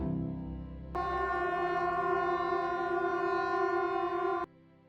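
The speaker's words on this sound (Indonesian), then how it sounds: "Suara sirene bencana akhirnya memecah keheningan malam Geiranger." Disaster warning siren sounding over Geiranger at night, a steady loud piercing tone held for several seconds before it cuts off abruptly.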